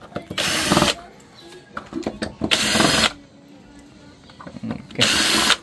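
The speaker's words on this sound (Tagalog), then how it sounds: "Tapos, tanggal tayo ng mga screw." Power screwdriver backing screws out of a Hisense smart TV under repair, three loud whirring bursts of about half a second each, separated by quieter clicks and handling noise.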